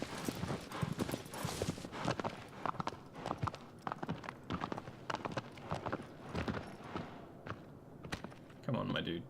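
Hooves clop rapidly and unevenly as a horse runs in Shadow of the Colossus on PS4, the beats close and clear with brief pauses. A snort or whinny comes near the end.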